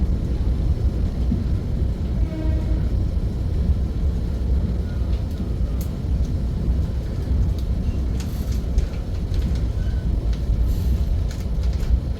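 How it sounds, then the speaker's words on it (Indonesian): Loud, steady low rumble of the Pandalungan passenger train rolling along rails from Jember to Jakarta, with faint rhythmic clacks and occasional higher squeals, no talking. "sekarang perjalanan aku naik kereta api Pandalungan"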